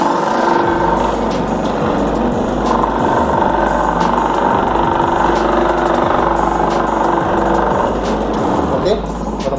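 A small electric motor in a homemade washing machine hums and whirs loudly and steadily, with some rattling vibration throughout.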